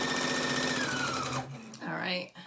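Sewing machine running steadily as it stitches straight seams on a fabric face mask, a loud continuous whir that stops partway, followed by brief handling sounds.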